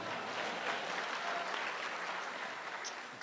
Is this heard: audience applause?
yes